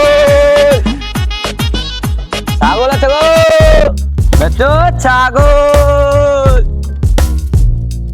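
Goat bleating in a comedic Bangla drama scene set around a Qurbani sale, several wavering cries repeating through the clip, close and loud, with people talking over and between them.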